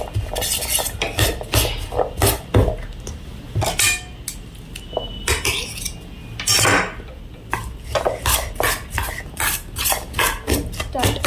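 Peanut butter being mixed in a bowl with a spoon: repeated clinks and scrapes of metal against the dish, irregular and close, with brief pauses between strokes.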